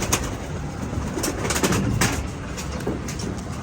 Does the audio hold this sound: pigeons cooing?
yes